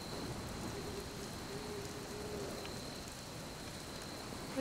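Steady rain falling in the video game Marvel's Midnight Suns, a soft continuous patter and hiss at low volume with no voices over it.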